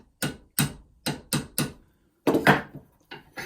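Centre punch struck by a hammer on a metal workpiece held in a vise, five sharp evenly spaced taps followed by a louder double blow and a final tap, close and crisp with no talk.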